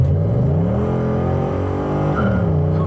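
An LS V8 engine swapped into a Mercedes formerly turbo diesel revs hard and steadily, its deep rumble rising and falling in pitch, loud and close with no voices.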